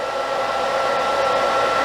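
A blow dryer runs at low air and high heat during hair styling, giving a steady, close whooshing hum with a constant airflow hiss and no pauses.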